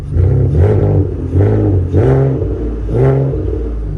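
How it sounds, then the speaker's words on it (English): A 2015 Ford Taurus Limited engine is revved up close and loud, four times in a steady rhythm, each rev a swelling rumbling whine that dips back between pushes. "If I rev it up, it'll run fine."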